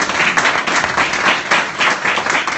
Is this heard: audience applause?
yes